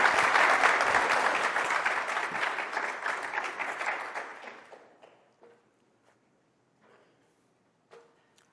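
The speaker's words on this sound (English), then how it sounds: "please give a warm applause for our panelists" An audience applauds panelists at an enterprise AI summit, a dense clapping crowd that fades out over a few seconds, leaving scattered footsteps and light knocks.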